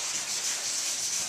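Flat block sanding two-part Interlux Perfection epoxy on the hull of a 1957 Speedliner Caravel boat, a steady, close, continuous abrasive rasp with no pauses.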